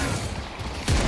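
Vindicta's sniper rifle fires a single sharp, loud shot in the hero shooter Deadlock, cutting abruptly through a low background rumble near the end.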